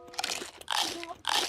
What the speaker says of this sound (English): Don't eat so fast. Chew every bite.